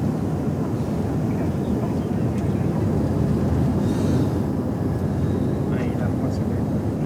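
A helicopter in flight over mountains produces a steady, loud, rumbling engine-and-rotor drone that fills the whole stretch without pause, with muffled voices faintly underneath.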